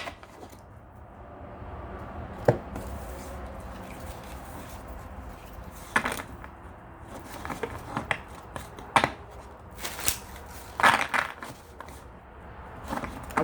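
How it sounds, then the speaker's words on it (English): Tarot cards are shuffled and handled in a quiet indoor setting, with scattered sharp flicks and snaps over soft rustling, close and fairly faint. "I wonder if it'd be much simpler for me to just shuffle and deal the cards"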